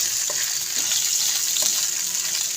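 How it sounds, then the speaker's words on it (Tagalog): Quail pieces sautéing with garlic and onion for adobo give off a steady, close sizzle, with a few soft stirring knocks. "At tapos isasama natin sa ibisa-gisa sa ating mga bawang sibuyas"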